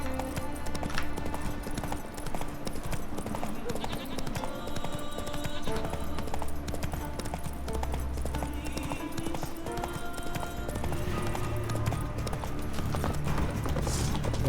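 Rhythmic horse hooves clip-clop steadily in The Witcher 3: Wild Hunt over a busy game soundtrack of music and effects, with an occasional whinny.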